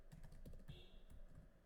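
Soft, rapid key taps on a computer keyboard patter steadily, quiet and close, with a low background hum.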